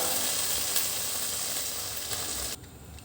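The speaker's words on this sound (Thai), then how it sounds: "ใส่ปลาหมึกแห้งลงไปครับ ใส่น้ำเปล่าครับ" A pot with dried squid hissing and sizzling as plain water goes in, a dense close steam-like crackle that fades abruptly near the end.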